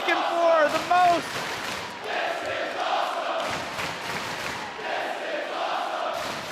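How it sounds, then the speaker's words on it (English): A wrestling crowd at a New York City show fills the space with loud, rhythmic chanting, voices swelling together in waves from a large audience. "I wanted to give everybody a chance to hear this great crowd here in New York City chant, "This is awesome,""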